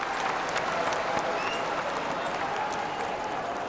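An arena crowd in Kumamoto keeps applauding a Russian goalkeeper's foot save during the 1997 World Handball Championship final against Sweden, a dense, even wash of clapping and crowd noise with a commentator's voice faintly underneath.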